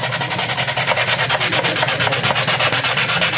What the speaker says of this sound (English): It also creates a sanding scratch that will give the epoxy something better